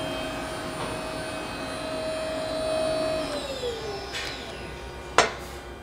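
A hydraulic FlexArm tapping machine works horizontally, its steady motor whine drifting downward partway through, followed by a sharp metallic click near the end.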